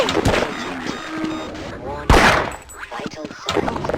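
Gunfire in the game Half-Life, with sharp broadband shots, the loudest one near the middle, mixed under game dialogue and a player's voice.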